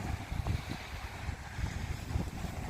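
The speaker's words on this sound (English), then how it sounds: "it's very windy, as I said" Strong wind at the seaside in Sheerness-on-Sea buffets the microphone with a continuous low, gusty rumble and roar, with no voices.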